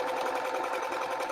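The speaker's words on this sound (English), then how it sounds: "It was a classroom sewing machine." An old school-classroom sewing machine stitches at a fast, even pace, a close, steady mechanical whirr with a rapid rhythmic tick and no talking.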